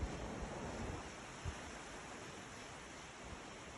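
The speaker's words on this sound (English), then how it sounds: "This is the water that melts from the snow and then finds its way down here." A cold snowmelt stream from Mount Shasta near South Lake Tahoe rushes steadily, a constant broadband hiss of flowing water with faint low wind bumps, quiet and with no speech.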